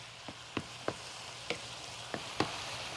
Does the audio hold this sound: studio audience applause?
no